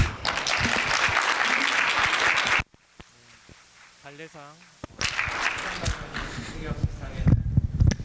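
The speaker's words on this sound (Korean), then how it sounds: "큰 박수로 인사드리겠습니다" Loud, dense audience applause in a hall at an academic society meeting after an award lecture, breaking off for a few seconds while someone speaks, then swelling again to the end.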